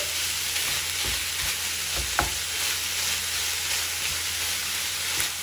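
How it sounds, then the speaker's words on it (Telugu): Jaggery melting with grated coconut in a pan is stirred steadily, giving a continuous soft sizzle with a few scraping strokes near the surface, with no talking. "బెల్లం మొత్తం కరిగి మనకి పాకం వచ్చే వరకు కూడా ఇలా తిప్పుకుంటూ పాకం రానివ్వాలి."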